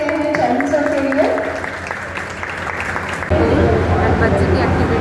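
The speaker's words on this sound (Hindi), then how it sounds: "Let us give a huge round of applause." Audience applause at a parenting workshop in an international school, a steady crowd of clapping hands that swells louder partway through, with a voice speaking over the start.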